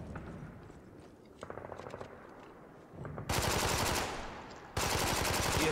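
Automatic gunfire in the Spec Ops: The Line game, close rapid machine-gun bursts firing in two long loud strings after quieter scattered shots and ambient game noise.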